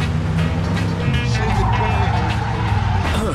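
A 1940s-style car in the Mafia 2 video game drives into a hotel garage, its engine loud and close with a sustained rumble and some tire squeal throughout, with no talk.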